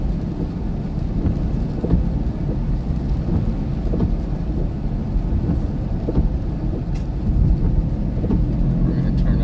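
Rumbling thunder from a lightning storm during Southern Iowa flash flooding, heard from inside a car as a steady deep low roar with rain and road noise, continuous and fairly loud with occasional swells.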